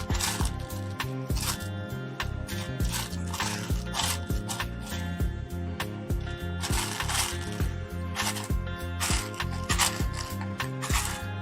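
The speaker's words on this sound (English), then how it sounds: "Clickety clack, clickety clack. Nothing but parts." Lego parts click and clatter in a near-continuous rattling jumble of plastic pieces being sifted and handled, with a faint rhythmic music bed underneath and no talking.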